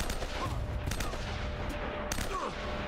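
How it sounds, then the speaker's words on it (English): M4 machine gun fire in the Uncharted: Drake's Fortune video game: several sharp shots and short bursts at irregular intervals over a dense, continuous background of game noise. "I'm shooting you with a fucking M4 machine gun"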